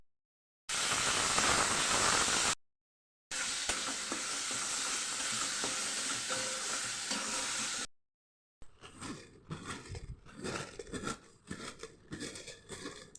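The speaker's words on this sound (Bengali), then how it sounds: "এবার পাট শাকের বড়াগুলো ভেজে নিচ্ছি" Jute leaf fritters frying in hot oil, a loud steady sizzle broken by brief silent gaps, followed by rougher crackling and stirring scrapes near the end; no voices.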